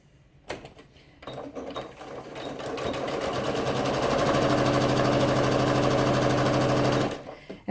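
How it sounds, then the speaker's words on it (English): A sewing machine stitches raw-edged quilt binding, starting with a few hesitant bursts and then running at a fast, steady mechanical whir for several seconds before stopping. "And then I'm going to stitch for a minute."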